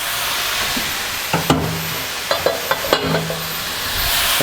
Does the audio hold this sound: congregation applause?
no